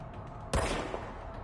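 A single sharp gunshot from the service weapon in the game Control, loud and abrupt, then a short decaying tail over low background ambience.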